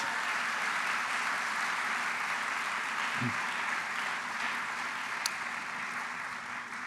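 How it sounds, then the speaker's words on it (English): Steady audience applause at a graduation awards ceremony, a broad even wash of clapping that holds without pause, moderately distant, with no talking over it. "Please give each other a round of applause for that."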